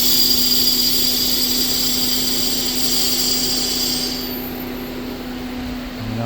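An air compressor runs with a steady mechanical hum and a bright broadband rush of fan and air that cuts off partway through, leaving the lower motor drone going alone, fairly loud and close with no talk.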